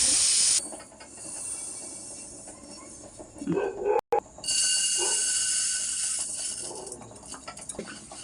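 Sesame seeds dry roast in a pan with a loud, continuous sizzling hiss and scattered crackles, interrupted by a brief dropout midway before the hiss resumes.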